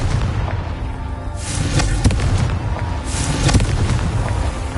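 A fiery Confringo spell bursts in Hogwarts Legacy, a loud booming blast with a dense, rumbling roar that swells and rolls through the whole moment, with sharper cracks near the middle.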